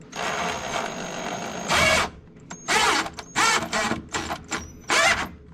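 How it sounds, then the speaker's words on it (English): A power drill whirs steadily, then runs in reverse in several short, loud bursts with brief pauses between, backing a screw out of wood, close and mechanical. "Just turn your drill back the other direction and it'll pop right out"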